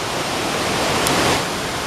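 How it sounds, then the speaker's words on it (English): Boyana waterfall near Sofia, a steady close roar of falling water filling the short moment without a break. "this may be the last and the highest point of the Bojana waterfalls."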